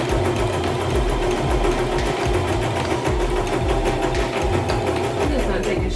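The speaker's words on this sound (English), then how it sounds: "this is how you operate the sewing machine" A domestic sewing machine runs steadily at close range, a continuous loud whirring hum with a fast mechanical pulse that holds speed throughout.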